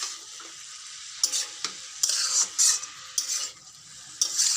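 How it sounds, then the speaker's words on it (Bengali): Vegetables frying in a pan while being stirred often, with a soft steady sizzle and several sharp bursts of spatula scraping and clinking against the pan, close up. "এখন সুন্দর করে ঘন ঘন নাড়াচাড়া করে ভেজে নেব।"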